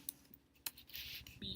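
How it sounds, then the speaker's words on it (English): A few quick, soft clicks of keys on a computer keyboard as a food is typed into a search, faint and very brief. "So you're going to type in banana."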